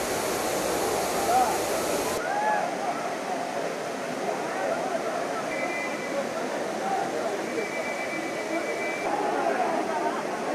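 Water pours down Main Falls and Five Falls, a continuous, loud, broadband rushing roar that stays steady throughout.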